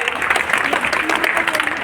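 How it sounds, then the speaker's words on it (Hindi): An audience at a school student council election announcement claps steadily in a dense, sustained round of applause for the winners, loud and close throughout. "एक बार फिर ताली बजाइए"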